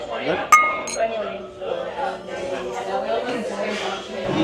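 Glasses clink together in a toast at a wine tasting in Sitka, Alaska, a sharp ring near the start that fades under steady chatter and talking voices.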